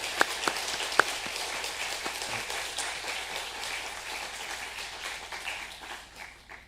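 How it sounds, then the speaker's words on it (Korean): A church congregation, standing to bless a newly married couple, gives a steady round of applause that carries on for several seconds in a large room, gradually thinning toward the end. "축복하는 의미에서 일어서 주시면 큰 박수로 감사드립니다."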